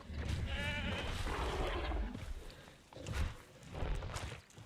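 A goat in the dinosaur park game Jurassic World Evolution 2 gives a wavering bleat near the start, followed by heavy thudding steps of an approaching Giganotosaurus.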